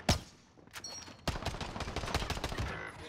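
Video game gunfire crackles in rapid bursts and sustained automatic volleys over about three seconds, fairly close and loud.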